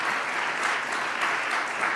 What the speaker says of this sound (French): Applaudissons-les encore une fois